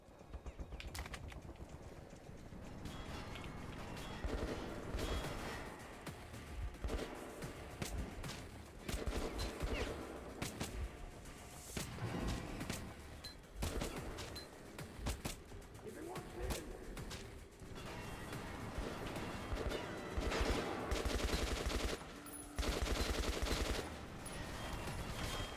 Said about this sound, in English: Okay, the upgraded AK, way better, bro.